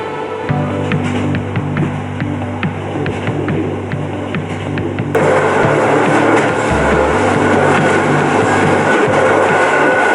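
A passenger train carrying travellers into Ukraine rolls along the rails, giving a loud, steady rumble with a regular clickety-clack of wheels over rail joints and no voices.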